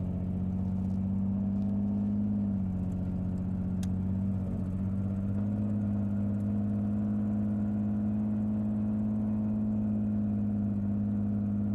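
A deep, steady carbureted V12 boat engine fitted in an SUV idles with a low droning rumble, carburetors out of adjustment, holding an even pitch throughout with a brief dip partway in.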